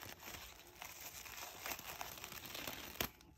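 Paper crinkles and rustles almost continuously as a potted cactus is unwrapped from its packing, with a sharper crackle near the end; close and fairly quiet, no talking.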